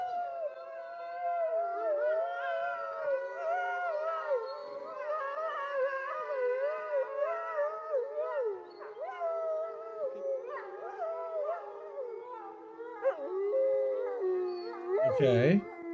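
A dog howls in long, sustained, wavering tones that rise and fall almost continuously, fairly close and steady in level, with a brief louder burst near the end.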